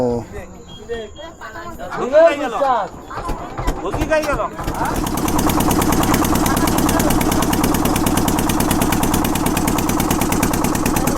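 A ferry boat's engine in the Sundarbans river delta catches and settles into a steady, loud, pulsing idle that runs to the end, after a few seconds of people talking.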